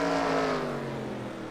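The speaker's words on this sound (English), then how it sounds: "here comes the number 9, Bruce Webster." The number 9 Oldsmobile race car of the SCRL Grand National Series roars past on the Monroe track, a loud engine drone that fades slightly over a second and a half.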